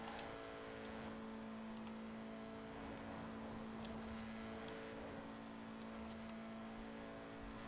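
A small two-litre car engine in Forza Horizon 4 holds a steady high drone at top speed in sixth gear, with a constant whine and no talk.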